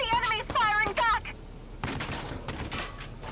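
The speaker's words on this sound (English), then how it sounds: "The enemy's firing back." Enemy gunfire in Valkyria Chronicles 4, a burst of shots crackling over game noise after a stretch of speech, moderately loud and near.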